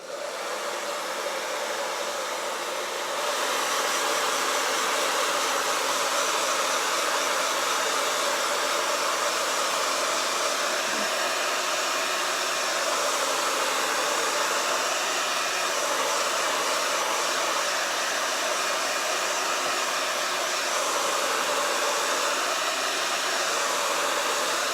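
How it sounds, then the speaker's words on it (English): A hair dryer blows across a freshly applied transfer on a cutting board, a steady, loud whooshing hiss that starts after a few seconds and runs unbroken to the end with no talking. "And I'm just using a hair dryer."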